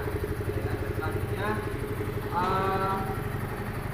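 A Yamaha Mio M3 125 scooter engine starting for a test, then settling into a steady, close, low-pitched idle throb, with someone talking over it.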